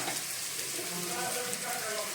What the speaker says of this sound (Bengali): পেঁয়াজটা লাল হয়ে ভাজা প্রায় হয়ে এসছে